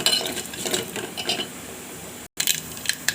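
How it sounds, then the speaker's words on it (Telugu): Mustard seeds, cumin and chana dal crackle and pop in hot oil for a tempering, a steady close sizzle with scattered sharp spits and a brief dropout near the end. "ఈ పోపు బాగా వేగనివ్వండి చిటపటమనే సౌండ్ వచ్చే వరకు వేగనివ్వాలి"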